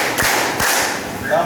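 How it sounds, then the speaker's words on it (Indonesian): Hand claps from a class of adults counting along in a classroom clap exercise, a few sharp slaps spaced across the moment with some voices mixed in, moderately loud and slightly roomy. "tepuk 3"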